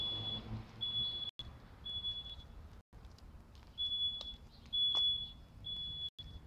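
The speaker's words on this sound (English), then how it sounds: "Now, how many people have external alarms going on?" An external alarm beeps in a repeating run of steady, high-pitched electronic tones, a few separate beeps broken by short gaps, over a moderately loud background noise.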